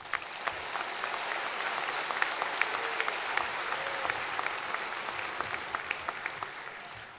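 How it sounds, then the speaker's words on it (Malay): Applause from a political audience at a special briefing by the UMNO president, a fairly faint but steady patter of many hands clapping, with crisp individual claps standing out throughout and no talk over it. "mereka layak untuk diberikan standing ovation oleh kita semua."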